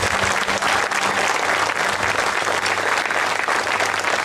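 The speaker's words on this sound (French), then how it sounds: "Est-ce qu'on peut applaudir nos invités d'honneur ce soir?" An evening audience applauds its guests of honour with loud, dense clapping that holds steady from start to finish with no break.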